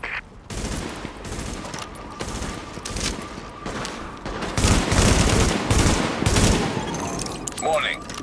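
Gunfire in the video game Tom Clancy's The Division, repeated loud rifle bursts and single shots spread across the stretch, with radio voices and shouting in between.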